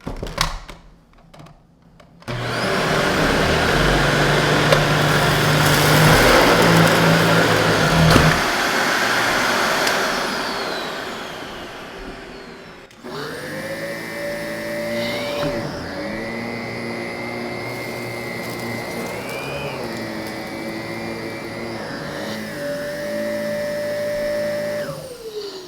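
Dyson vacuum cleaner running in a pet-hair pickup test, a loud steady whine with a rough rushing airflow that stops, then restarts as a higher tonal hum with small pitch shifts as it moves.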